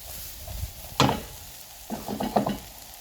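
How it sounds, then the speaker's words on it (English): Vegetables with fresh thyme sautéing over high heat in a pan, a soft steady sizzle broken by a sharp hiss at one point and a busier stir-and-toss burst near the end, fairly close. "This is just to let the vegetable sweat a little bit and to give the natural caramelization flavor."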